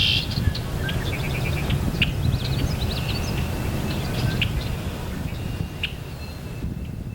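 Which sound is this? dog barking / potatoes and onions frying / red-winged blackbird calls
red-winged blackbird calls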